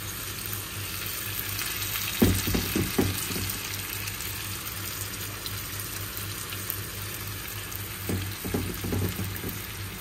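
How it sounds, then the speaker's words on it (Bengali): Dahi vada batter frying in oil over a low flame, a steady even sizzle with a few clusters of soft clattering handling noises, close and moderate with no talking. "ফ্লেম কিন্তু জোরে রাখিনি, একদম লোতে রেখেছি, আস্তে আস্তে ভাজবো।"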